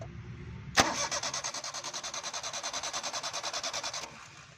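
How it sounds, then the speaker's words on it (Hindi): A Suzuki Cultus car engine cranks on its self-starter with an acceleration problem, a sharp click followed by a rapid, rhythmic whirring of the starter turning over for about three seconds, then stopping without catching. "दोस्तों, सबसे पहले गाड़ी को सलफ लगा के देखेंगे।"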